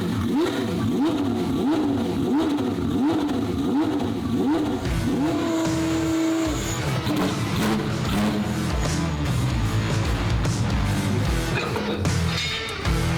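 Loud twin-turbo Ferrari F12 engine droning and revving steadily on a dyno, its pitch wavering up and down under load, with mechanical whine and no talking.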